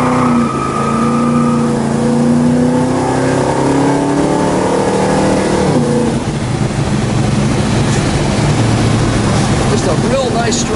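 The engine of a 1969 Dodge Super Bee revs loudly and close by, its pitch climbing and holding, then dropping away as the throttle is released. It settles into a rough, throbbing idle.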